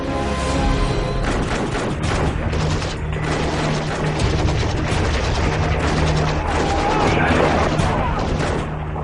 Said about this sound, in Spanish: De pronto, suenan disparos procedentes del interior.